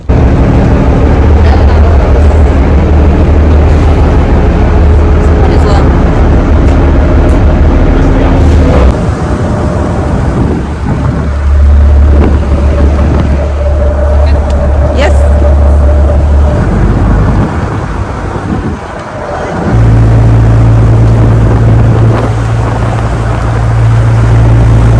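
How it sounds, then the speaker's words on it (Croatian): A small boat's motor drones loudly and close during a ride along a beach in the Maldives, a steady rumbling hum that dips and shifts in pitch midway, with wind rushing across the microphone. "Idemo ovim prekrasnim brodićem."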